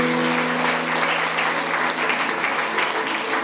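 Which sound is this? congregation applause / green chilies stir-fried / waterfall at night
congregation applause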